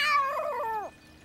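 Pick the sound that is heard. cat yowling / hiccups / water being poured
cat yowling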